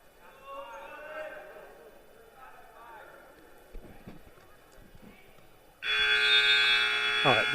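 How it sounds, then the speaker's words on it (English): A loud electronic buzzer sounds abruptly at a high school wrestling match to end the first period, cutting in after a stretch of commentary and crowd murmur and holding steady to the end. "there's the buzzer, ending the first"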